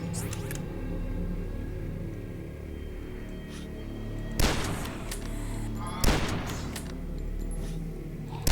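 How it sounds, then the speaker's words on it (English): Hunting rifle fired in a video game: two loud, sharp booming shots a couple of seconds apart, each with a brief rumbling tail, over a constant low game soundtrack. "3 shots with a hunting rifle"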